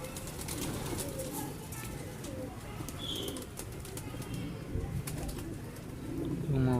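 A Kamagar breeder pigeon pair gives soft cooing and a brief wing flutter nearby, mixed with some low background noise.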